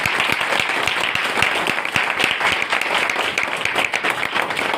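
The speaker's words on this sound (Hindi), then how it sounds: "एक बार जोरदार तालियां करूँगा" A crowd applauds loudly and steadily, dense clapping filling the whole stretch without a pause.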